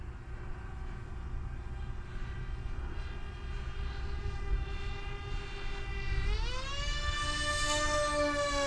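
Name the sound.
RC airplane flying with new propellers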